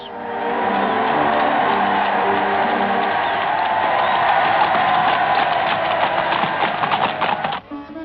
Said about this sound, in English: Then a drive back to Government House amid delirious crowds.